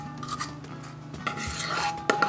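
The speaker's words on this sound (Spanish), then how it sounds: "Ahí tengo unos 4 golpecitos así para que se empareje" A bread mold of batter for cream bread is rapped a few times on a surface to level it, giving short, dull knocks and some scraping, close and moderately loud, with no talking.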